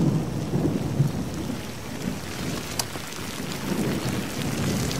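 Steady rain pours down through a thunderstorm, with a rumble of thunder and a sharp crack near the middle, loud and continuous with no voices.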